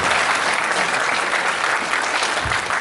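Loud, dense applause fills a birthday celebration hall for a seventieth birthday, steady and sustained from start to finish with no pauses.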